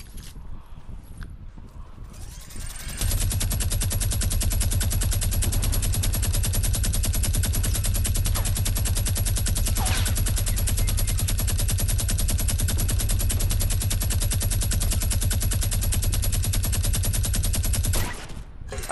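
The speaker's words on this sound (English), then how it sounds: "shoot a minigun while we rush him" A Fortnite minigun fires in one long unbroken burst after a brief spin-up, a dense rapid mechanical stream of shots held loud and steady for about fifteen seconds before cutting off.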